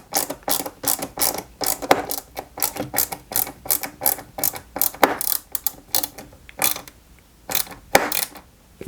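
Small screws driven into the plastic partition of a Lancia 037 scale model kit: rapid ratcheting screwdriver clicks in repeated bursts with brief pauses, close and fairly loud, no voices.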